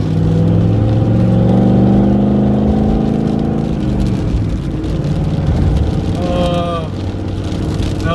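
A turbocharged Pontiac GTO with a T56 manual gearbox revs its engine, rising then falling in a strong steady drone, close and loud, with a faint whine appearing near the end.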